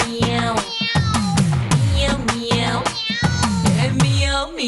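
A person's voice imitates a cat, giving a rapid run of repeated meows in short paired bursts, loud and close, with no other talk over them.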